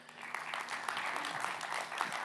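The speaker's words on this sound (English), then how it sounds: "So everybody give him a round of applause" Soft, fairly distant applause from an audience at a cybersecurity talk, a steady patter of many hands clapping that holds evenly from start to finish.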